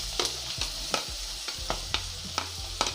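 Onions frying in a pan with curry leaves and green chillies for a Tamil tempered leftover-rice dish, a steady sizzle broken by regular scraping stir strokes about twice a second, close and fairly loud, with no talking.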